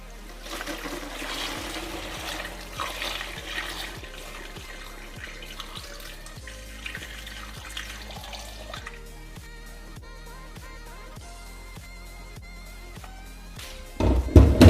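A homemade zero-waste household cleaning mixture trickles and dribbles through a funnel into a bottle in a steady, close pour, ending with a brief louder clatter.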